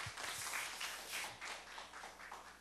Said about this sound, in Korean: 박수를 한번 해주세요.